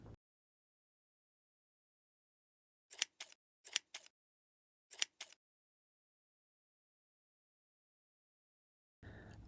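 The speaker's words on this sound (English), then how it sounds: "the very last step is I'm going to trim my tassels to about 3 inches" Scissors trimming crochet tassels to about three inches on a boho handbag, four separate crisp double snips spaced apart in a quiet room, close and clear.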